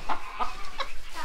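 Several short clucks from laying hens close by, four quick calls in a loose rhythm over a faint background.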